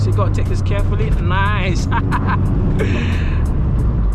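A modified Vauxhall Astra VXR with traction control off revs hard on a country lane after a downshift, the engine note climbing in quick rising sweeps beneath a driver talking in the cabin.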